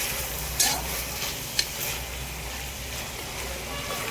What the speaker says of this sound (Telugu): చికెన్ వేసాక పుదీనా వేస్తాను.